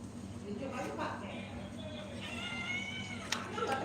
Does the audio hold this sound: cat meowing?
yes